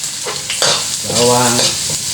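Garlic and onion sizzle loudly in a pan as they are stirred for chicken cooked with Sprite, the close frying hiss overlaid by scraping and a brief squeaky rasp from the utensil.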